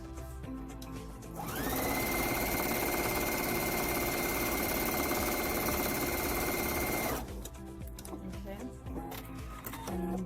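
A sewing machine stitches a spiderweb quilt seam, its rapid, steady mechanical whir running loud and close for about five seconds between quieter handling noises.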